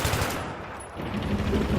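M27 IAR machine gun in Battlefield 3 firing in rapid automatic bursts, loud and close, a short burst, a brief pause, then more rattling fire.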